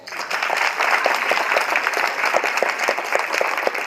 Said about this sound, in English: you all give them a big hand of applause